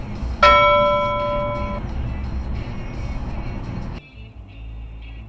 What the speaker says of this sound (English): It's a freaking fire truck.